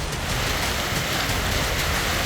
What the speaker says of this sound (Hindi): साउथ कश्मीर के अनंतनाग जिले में सुबह से ओलावृष्टि हुई